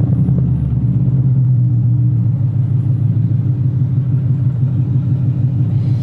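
A car engine idles loud and close, a deep steady rumble with a slight lumpy pulse that holds without revving.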